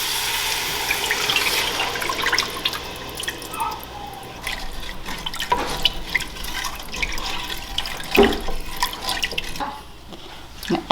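Broth pours into a pot in a kitchen, a continuous splashing trickle with drips and small clinks, close and steady throughout.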